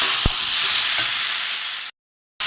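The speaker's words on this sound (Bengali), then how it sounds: "নিরামিষ তরকারি লঙ্কা দিয়ে একটু কষে নেবো" Chili powder sautéing in oil for a vegetarian vegetable curry (niramish dalna) with drumsticks, a steady close sizzle with a couple of stirring scrapes, cut off by a brief silence near the end.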